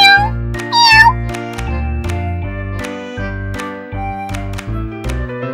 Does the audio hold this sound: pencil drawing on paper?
no